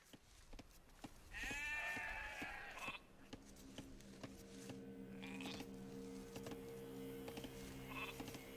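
Sheep bleating in a strategy video game, a few short wavering bleats close up early on, then a steady low tonal hum and faint clicks beneath.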